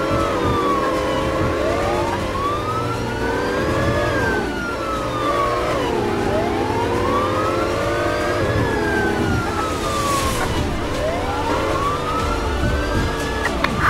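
A wailing police car siren rising and falling in long sweeps over a rumbling engine, loud and continuous, with a synthetic game-like quality, from the mobile police chase game New York City Cop 2018.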